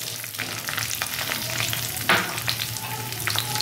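Green chilies and black cumin seeds frying in hot oil, a steady close sizzle with a louder crackling burst partway through, no talking.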